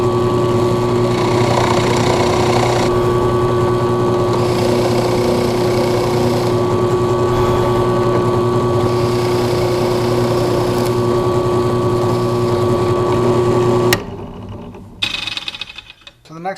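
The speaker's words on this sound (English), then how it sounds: "So let's go ahead and drill this." A loud, steady power drill whines continuously for a long stretch while drilling into wood, then cuts off abruptly, leaving brief clatter and handling noises.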